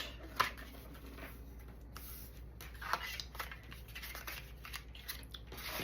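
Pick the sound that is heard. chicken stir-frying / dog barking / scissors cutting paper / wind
scissors cutting paper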